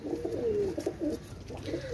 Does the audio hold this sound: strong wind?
no